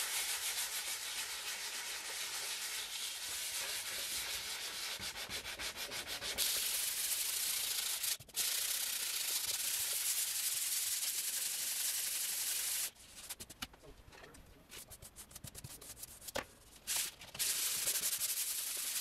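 Steady abrasive sanding rasps across a painting surface for a long stretch, close and continuous, with a few short pauses and bursts of rubbing toward the end.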